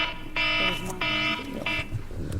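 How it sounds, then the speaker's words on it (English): In a legislative hearing room, a loud, harsh alarm blares in three long pulses separated by brief gaps, with a voice speaking between and under the pulses. "It's the scariest alarm I've ever heard."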